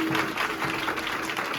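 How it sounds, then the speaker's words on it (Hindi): A congregation at a Christmas church service claps steadily and densely, a loud continuous wash of applause filling the space. "बजाते रहो, तालियों से गूंज जाए"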